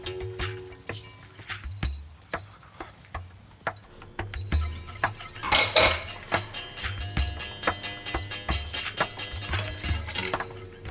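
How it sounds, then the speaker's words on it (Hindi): Dishes and utensils clatter and clink in a home kitchen as they are sorted, a steady run of sharp metallic and ceramic knocks and jangles with a brief louder clash midway. "मैं ज़रा वो किचन में जाती हूँ बर्तन अलग करने"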